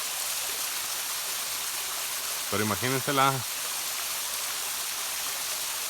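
A small waterfall and stream, reached after the rainy season, pour with a continuous hissing rush of falling water. Someone speaks briefly midway over the steady flow.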